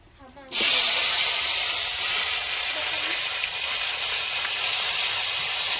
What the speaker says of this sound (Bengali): পাঁচ ফোড়ন তেজপাতা তেলে দিলে হ্যাঁ পুঁইটা দিয়ে ভেজে নিই